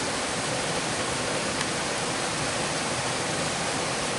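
A woodland waterfall near wild flowers gives a steady, unbroken rushing roar, fairly loud and even from start to finish with no voices.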